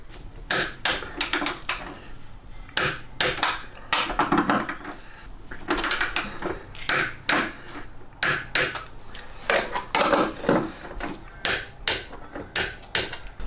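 Teng torque wrench tightening tow bar bolts on a Volvo V50, a close series of sharp mechanical clicks and ratcheting knocks in quick bursts, loud and steady throughout with no talk.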